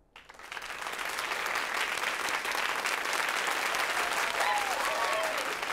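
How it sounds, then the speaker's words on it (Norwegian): An audience in a cartoon bursts into loud, sustained applause that starts abruptly and holds steady for several seconds, a dense crowd of clapping with a few faint voices mixed in. "Er all den applausen for meg?"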